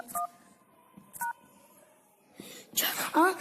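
Telephone keypad dialing tones during a prank call, two short beeps spaced about a second apart, followed by whispering and hushed voices close to the phone.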